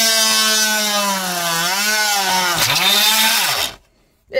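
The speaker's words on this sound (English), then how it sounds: "Don't know what's going on with this drill today, but instead of drilling inwards, it's just sliding." Power drill whining as its bit slides across a plastic miniature part for a Land Raider Spartan tank model, a steady motor tone that dips and rises in pitch, briefly bogs, then cuts off abruptly.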